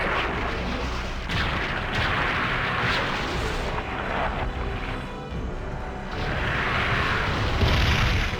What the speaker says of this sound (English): we're going to pop one Magnum shot into Nemesis